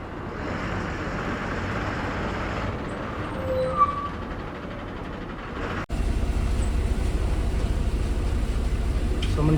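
A Maharashtra state transport bus pulls into platform 3 at Kankavli bus stand on the Borivali–Shiroda route, its engine rumbling loud and steady, with a brief thump partway through before the low drone picks up again.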